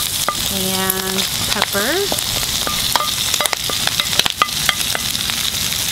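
Pork and ginger stir-frying in a pan with kaffir lime leaf, a steady dense sizzle under brief nearby talk with some clatter from stirring.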